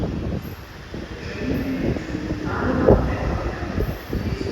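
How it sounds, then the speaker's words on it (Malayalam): A metro train bound for Aluva rumbles into the station steadily, growing louder with a rising hum and wind noise, a faint squeal near the middle. "ഒരു മെട്രോ വരുന്നുണ്ട്."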